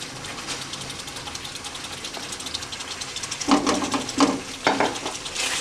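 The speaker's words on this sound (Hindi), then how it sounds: "अब उसी कढ़ाई में हम डालेंगे अपना मसाला जो कि हमने ग्राइंड कर लिया था।" Ground masala paste stirred in a kadai, with a steady frying sizzle throughout and a few louder spoon scrapes toward the end.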